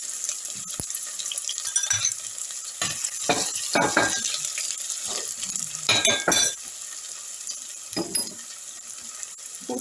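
Chopped spring onion sizzles in hot oil in a pan, a steady close crackling hiss broken by repeated scraping stirs of a utensil, with no talking.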